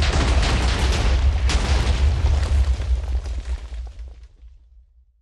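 TNT dynamite blowing up in the Minecraft video game, a loud booming blast with a rumbling, crackling roar that fades away over several seconds.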